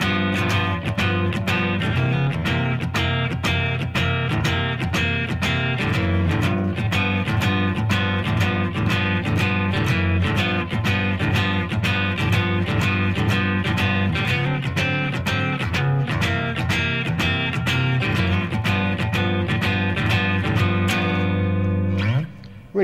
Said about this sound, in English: So our sequence, when we put them together, this is a standard 12-bar blues, sounds like this.